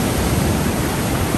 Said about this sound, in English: the waves are picking up again